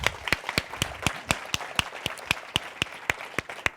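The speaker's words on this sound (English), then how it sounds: "And let's give a round of applause to Irving for being with us tonight." Sparse, evenly spaced claps ring out one after another, a thin round of applause from a small audience.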